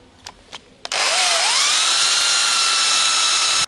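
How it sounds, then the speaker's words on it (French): A power drill with a 5 mm bit bores a hole during car interior fitting on a Citroën Traction 11B. A couple of light taps come first, then the motor spins up with a rising whine and holds a loud, steady high drone until it stops. "Je perce d'abord avec un forêt de 5."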